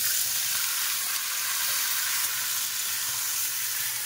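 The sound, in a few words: vegetables sizzling as added to hot oil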